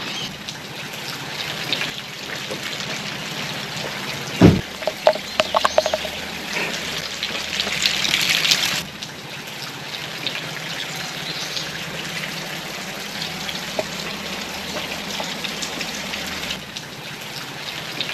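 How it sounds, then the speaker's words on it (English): A small waterfall on the Car Wash Falls trail in central Arkansas splashes steadily like heavy rain, a continuous close wash of falling water with a brief louder clatter partway through. "Here's our waterfall right here."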